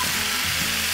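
Young radish greens and bean sprouts stir-frying in a pan give a steady, close sizzle with a soft crackle that runs without a break and with no voices.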